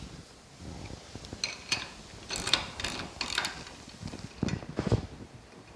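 A Kuryakyn tie-down bracket being tightened on a 2018+ Honda Goldwing motorcycle, with a series of close ratchet clicks in short bursts and small metallic taps between them.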